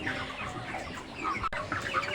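Broiler chickens on a poultry farm in hot weather cluck in a busy, overlapping flock, with repeated nearby clucks and calls over a steady barn murmur.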